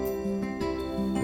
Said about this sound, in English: So what you're hearing right now is coming from the Genos 2.